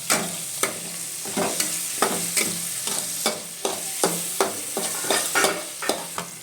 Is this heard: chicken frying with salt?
yes